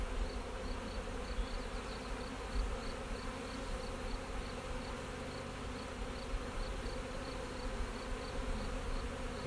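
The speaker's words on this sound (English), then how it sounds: "It is loud in here, and the bees are flying everywhere." A dense, steady drone of many bees buzzing close by inside a hive, continuous and loud throughout with no voices.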